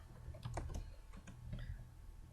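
Keys tap on a computer keyboard in short quick bursts, faint and close, with no other sound.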